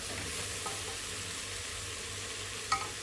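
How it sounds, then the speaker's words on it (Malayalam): Chicken biriyani ingredients sauté in a pressure cooker, a steady soft sizzle with gentle stirring and one sharp clink of a utensil near the end. "ഇനി ഇതും നമ്മൾ നന്നായിട്ടൊന്ന് വഴറ്റിയെടുക്കാം"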